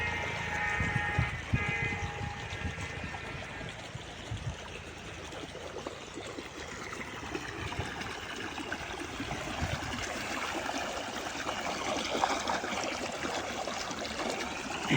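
Water from a pressurised line flows steadily through an irrigation channel in a wheat field about 50 to 60 days after sowing, a constant, close trickling and gurgling rush that continues throughout with no talk.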